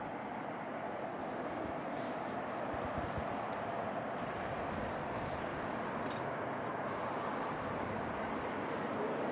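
An Air New Zealand Boeing 787 Dreamliner departing Auckland Airport at night produces a steady, distant broadband jet roar that holds throughout, faint and wide, with no voices.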